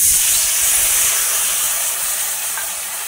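Water poured into a hot pan of potatoes bursts into a loud, continuous hissing sizzle of steam that fades only a little over a few seconds.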